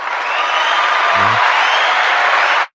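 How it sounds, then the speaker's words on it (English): A burst of dense applause, steady and loud throughout, then cut off sharply after under three seconds. "Applause like this."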